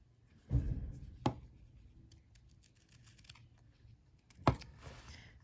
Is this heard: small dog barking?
no